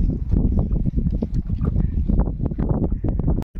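A boat on the water in the Sundarbans comes closer, a loud, rumbling wash of engine and water noise mixed with wind buffeting the microphone, continuous throughout.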